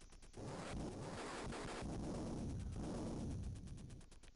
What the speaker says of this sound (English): Nice bit of strafing there, if I do say so myself.